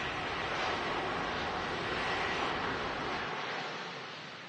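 An airliner landing at Manchester Airport and braking hard on the runway gives a sustained broad engine roar, likely reverse thrust, that holds steady and then fades toward the end, with no talking.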